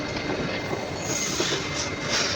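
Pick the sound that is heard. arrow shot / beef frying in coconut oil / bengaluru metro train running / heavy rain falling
bengaluru metro train running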